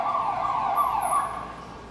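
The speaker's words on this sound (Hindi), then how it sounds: "इमरजेंसी सायरन बज के बंद हो जाता है" An emergency vehicle siren wails steadily in the distance, fairly faint, its pitch wavering slightly.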